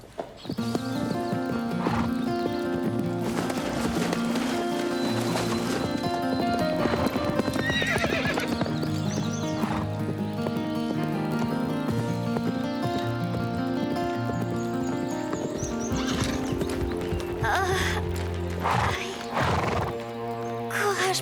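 Steady clip-clop of horse hooves throughout, with several loud whinnies rising above the hoofbeats.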